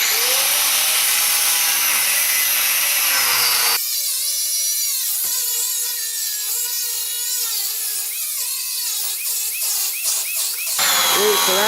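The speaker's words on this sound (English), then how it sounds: "You cut the bolt heads off." Bolt heads are cut off while a Super Duty pickup's bed is being removed: a harsh, loud, continuous metal-cutting whine that shifts in pitch and strain as the tool bites, running without pause through the whole stretch.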